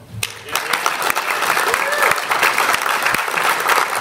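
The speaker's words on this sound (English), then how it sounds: "Big round of applause." An audience at the Hawaii Hemp 2018 event breaks into steady, full applause, a dense wash of clapping that swells and holds close and loud, with some crowd noise mixed in.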